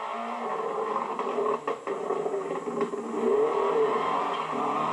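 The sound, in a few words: rally car driving fast on island stage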